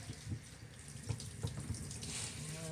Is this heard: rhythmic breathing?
no